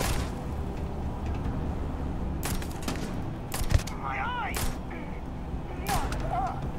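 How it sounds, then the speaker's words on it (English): Pistol shots ring out in the sci-fi video game Starfield, several sharp cracks spaced a second or so apart over a constant game background, with a few electronic chirps between shots. "This is a really nice pistol. It doesn't sound as like heavy as it probably feels like."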